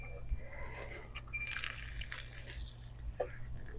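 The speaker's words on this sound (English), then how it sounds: "So I can hold it and I can just water it like this." Water trickling and splashing from a hand-held watering onto soil in a seed pot, faint intermittent pours and drips with light handling noise, brief soft voice nearby.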